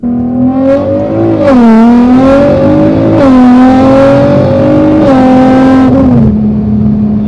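An Audi RS5 accelerates hard through a full-throttle pull, its engine loud and close with rising revs, brief dips at each gear change, then climbing again, heard alone without talk.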